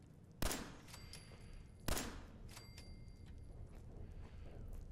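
Two sharp pistol shots ring out in the post-apocalyptic game Fallout 4, spaced about a second and a half apart, each with a brief echoing tail over a quiet background.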